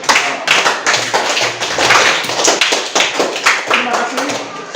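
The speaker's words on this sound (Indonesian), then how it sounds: "Jadi mari kita sekali lagi tepuk tangan untuk" A school audience claps hands in an Indonesian classroom, steady overlapping claps sounding close and loud across the whole stretch, with some voices mixed in.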